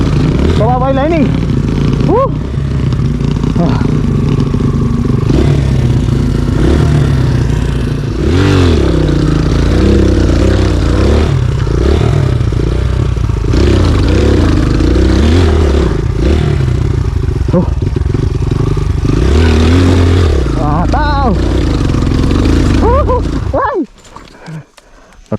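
Kawasaki KLX150 dirt bike engine revving and straining on a rough off-road trail, a loud continuous motor drone with rising and falling pitch and rattling clatter, people talking over it before it cuts out near the end.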